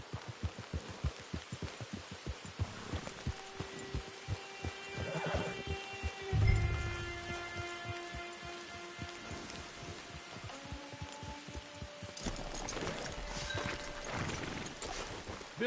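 A horse in the Red Dead Online video game whinnies several times over scattered hoof clops, set against a steady patter like rain throughout, with a louder thump midway.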